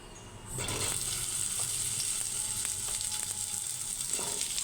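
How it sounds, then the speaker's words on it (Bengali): Onions and chilies sizzle in hot mustard oil for a dried-fish mash, a steady close hiss with a few soft stirring knocks, no one speaking. "সরিষার তেল দিয়ে আমি পেঁচমরিচগুলো ভাজে নেব।"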